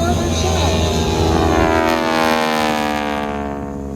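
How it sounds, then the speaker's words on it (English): SNJ warbird propeller airplane taking off at the Warbirds Over Monroe airshow, a loud sustained droning engine roar with a rising, sweeping tone that holds steady and then slowly fades near the end. "And right now, we're going to have Kathy take off."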